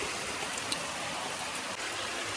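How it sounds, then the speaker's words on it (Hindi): Heavy monsoon rain pours down in a village, a steady, dense hiss of water with no pauses, close and loud throughout, with no voices. "भाई देखते देखते भाई भयंकर वाली बारिश लग चुकी है यहाँ"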